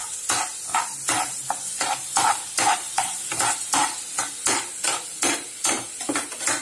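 A spoon scrapes rhythmically around a pan of brinjal and tomato curry, roughly two strokes per second, each sweep a loud close scrape over a constant background sizzle.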